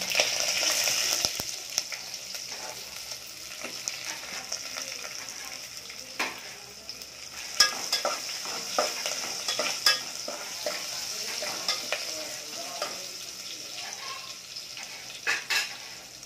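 Curry leaves and crushed garlic sizzling in hot oil for tomato saar, a steady close crackle with sharp pops and occasional utensil clicks throughout.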